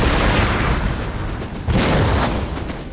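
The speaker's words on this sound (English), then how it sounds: "we are bringing the pain now with some Prussian howitzer fire" Prussian howitzers firing in the game Napoleon: Total War, heard as heavy, rumbling booms that roll over a dense battlefield din, with a fresh loud blast about halfway through.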